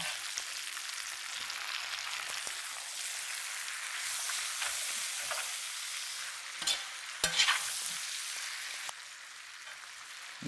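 Onions and tomatoes frying in a pot for Azerbaijani plov, a continuous hiss of sizzling oil with scattered taps and scrapes of a spoon, louder clatter around the middle.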